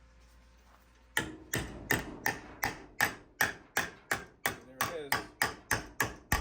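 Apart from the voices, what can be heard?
ball peen hammer bending car fender sheet metal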